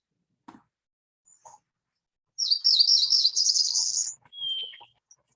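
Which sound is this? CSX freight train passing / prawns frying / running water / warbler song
warbler song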